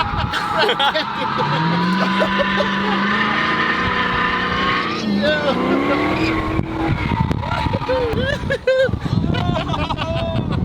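A 700-horsepower car engine roars and revs with rising and falling pitch, loud and close, while excited voices shout over it.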